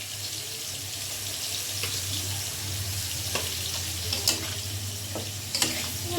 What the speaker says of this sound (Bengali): ভালোভাবে নাড়িয়ে কষিয়ে নিবে।